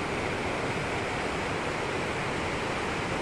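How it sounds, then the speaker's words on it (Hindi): Waterfalls pour along a rain-swollen mountain stream over rocks, a constant broadband rush that stays even and unbroken, moderately loud with nothing else audible. "कितने कितने सुंदर झरने बने हुए इसके अंदर देखो"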